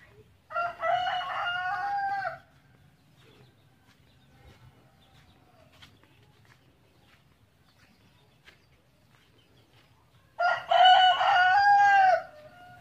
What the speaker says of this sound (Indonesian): Yang ada suara ayam dan kicau burung ketika di pagi hari.